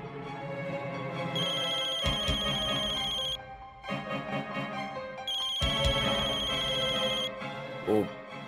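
An electronic phone ringtone plays a bright repeating melody, pausing briefly and starting again, loud and close, with a short murmur near the end.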